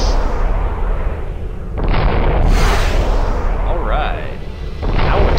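Interceptor missiles in the Freespace space combat game fire two at a time, heavy booming launch bursts with a whooshing roar. Someone talks over them.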